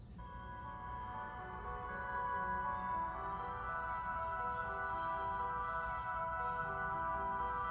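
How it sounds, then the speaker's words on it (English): A crystal steel synth patch plays sustained, shimmering layered tones that swell in level over the first couple of seconds, then hold steady and full to the end. "So the crystal steel sounds like this."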